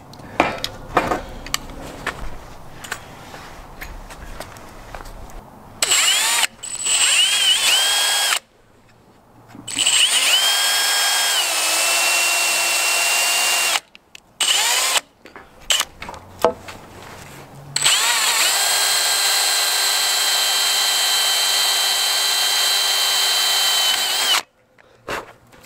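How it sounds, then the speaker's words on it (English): A power drill pre-drills a hole through wood and then a slight hole through steel while building a budget hot tent, running in several loud whining bursts separated by short pauses, with one long steady run near the end. "we'll pre-drill a hole through the wood, and we're going to pre-drill a slight hole through the steel as well"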